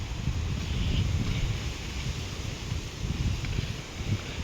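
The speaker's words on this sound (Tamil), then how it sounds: "கடுமையான காற்று வீசு." Steady, strong wind buffeting the microphone, producing a constant low roar with gusty rumbling and a faint rustle throughout, outdoors near a stone temple.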